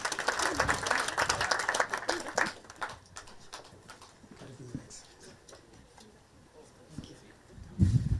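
A university audience at a meeting at Yatta claps in a burst of applause, fading after a few seconds, with murmuring voices and birds faintly in the background.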